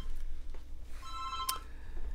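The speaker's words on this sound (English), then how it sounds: "And now phone's going." Telephone ringing in a home kitchen during cooking, a faint electronic ring with a brief tonal burst in the middle, alone against quiet room background.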